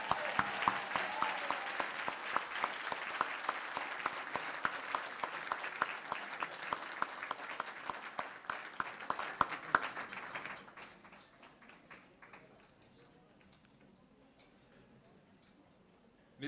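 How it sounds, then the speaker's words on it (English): Applause for a community activist at a charity ball: a crowd claps steadily with distinct individual claps, then thins out to scattered claps around ten seconds and fades to near silence. "How about a little more applause to accompany me?"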